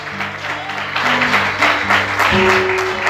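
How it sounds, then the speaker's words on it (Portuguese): A church congregation applauds during an evening service, a dense crowd of clapping that swells and stays loud throughout, with organ or keyboard tones sustained underneath. "Você pode aplaudir o Senhor nessa noite?"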